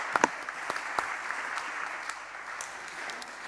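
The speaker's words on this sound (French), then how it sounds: "On peut les applaudir." Moderate applause from a conference audience following a presentation on energy performance for Paris schools, with a few sharp individual claps standing out at the start before it settles into even clapping.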